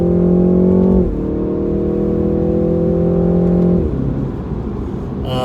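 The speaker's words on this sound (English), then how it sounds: "This car pulls very well when you're really kind of stepping on it here" A 2019 BMW 330i xDrive M Sport accelerating hard, engine note rising steadily in pitch, dropping sharply at each crisp gear change and climbing again, loud and close from inside the car.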